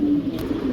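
Afghan Lahori pigeons give a soft, low cooing close by, a steady murmuring coo running through the whole short moment with no talk.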